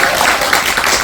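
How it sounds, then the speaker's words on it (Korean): Audience clapping together at a Korean cooperative childcare association's general meeting, a brief dense burst of applause filling the room. "그래서 우리끼리 그냥 박수라도 한번 치고 넘어가면 어떨까 싶습니다"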